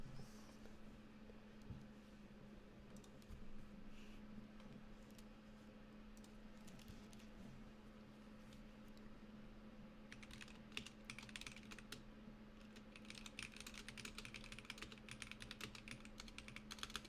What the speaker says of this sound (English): Do a little keyboarding.